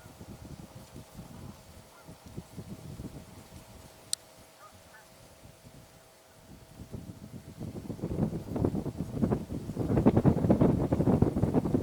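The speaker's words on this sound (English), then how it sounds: "the wind is coming right in the car" Low rumbling wind blows into a car and buffets a microphone, steady at first then growing louder and gustier toward the end, with a faint distant honk.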